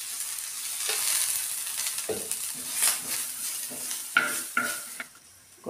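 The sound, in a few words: potato vegetable sautéing in oil in a pan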